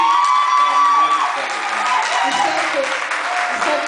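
A studio audience at a singing show claps and cheers after a performance, with loud, steady applause threaded with whoops and shouts, and a voice speaking over the crowd.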